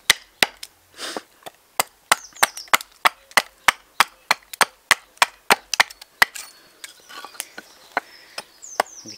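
An axe chops seasoned, dry wood outdoors in a steady run of sharp, hard knocks, about two per second, close and loud with brief woody splintering between strikes.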